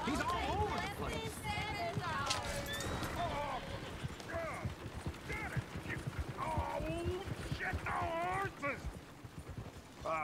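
Horse hooves clip-clop in a video game, a steady patter running under busy overlapping talk, yips and other game noise throughout.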